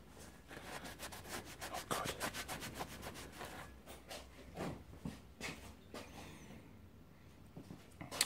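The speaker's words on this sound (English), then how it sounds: "Get a rag, get that bit clean, get rid of some of the grease." A rag rubs grease off a trailer hub during a bearing replacement, with repeated close, quiet scrubbing and wiping strokes in an uneven rhythm, and no voices.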